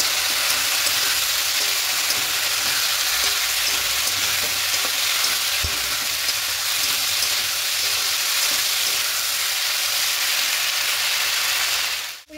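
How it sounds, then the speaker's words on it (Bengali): Ginger, green chili and radhuni spice paste fries in a pan for a live rohu fish curry, giving a steady close sizzle and hiss that runs unbroken to the end, with no voices. "এবার যে মশলাটা করেছিলাম আদা কাঁচা লঙ্কা রাঁধুনি, ওটা দিয়ে দেবো। খুব ভালো করে কষিয়ে নেব।"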